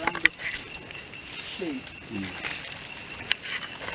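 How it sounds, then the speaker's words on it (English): A cricket stridulates in a forest in Africa, a thin steady high chirring running continuously beneath a faint outdoor hum, with a single spoken word heard briefly. "It's just a tiny insect that makes this stridulation."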